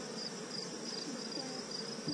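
Honey bees buzz around a lifted hive frame, a faint, continuous droning hum that stays even throughout the short moment.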